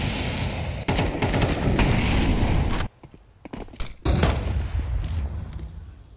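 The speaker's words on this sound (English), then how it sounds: "FaZe pepper their shots through the smoke" Rapid bursts of gunfire in a competitive Counter-Strike esports match at IEM Cologne 2025, loud, dense and repeated, with a brief quieter gap before the shooting resumes.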